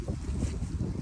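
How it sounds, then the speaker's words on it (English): Steady wind rushing across the microphone on a walk through a park on a cold, windy day, a continuous low buffeting roar filling the whole moment with no voices. "And it is quite windy, so that's what makes it cold."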